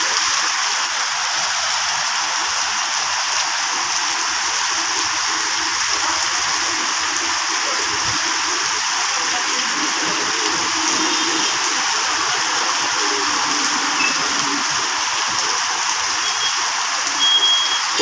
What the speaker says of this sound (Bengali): প্রচুর পরিমাণে বৃষ্টি